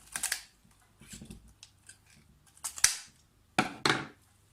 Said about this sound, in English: And you have to use the kitchen scissors.